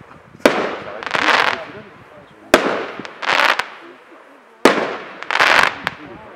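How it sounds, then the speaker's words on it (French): Three autumn fireworks bursts, each a sharp loud bang followed by a long crackling shower that fades out, spaced roughly two seconds apart. "feu artificiel de l'automne"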